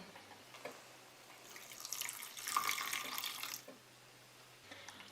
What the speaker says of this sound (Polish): teraz dolewam bulion warzywny